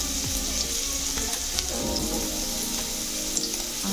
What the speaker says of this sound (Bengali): ভাজতে ভাজতে গাজর ভাজা হয়ে গেছে।